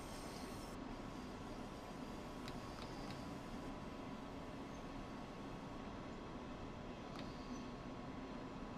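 Train Sim World 3's BR 112 electric locomotive rolling and braking into Gemünden station on the Main-Spessart line: a steady, loud rumble of rail noise with a few faint squeaks and clicks over the top, and no voices.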